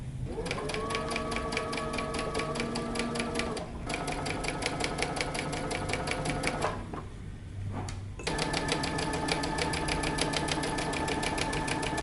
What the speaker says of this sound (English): let's move to the side and sew these down 1/2 inch as well